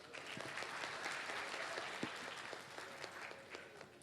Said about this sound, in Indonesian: Oke, pertanyaan bagus. Tepuk tangan, Daryl.